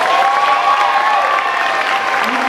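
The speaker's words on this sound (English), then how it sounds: "So please give him a round of applause." An elementary school audience applauds after a Peter Pan Jr. performance, loud and steady clapping from a close crowd with a sustained tonal hum running underneath.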